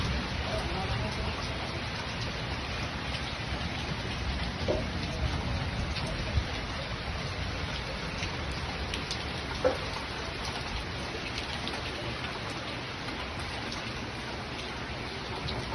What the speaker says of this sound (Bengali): দারুণ বৃষ্টি হলো আজকে, এখনো হচ্ছে।